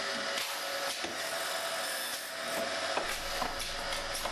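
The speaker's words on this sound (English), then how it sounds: "an ejector plate picks the dowel up from the V-groove and deposits it in a bucket on the exit" An industrial dowel drilling and sawing machine runs, its ejector plate lifting a finished wooden dowel from a V-groove into a bucket; a continuous mechanical whir and rasp with faint rhythmic knocks, fairly steady and moderately loud.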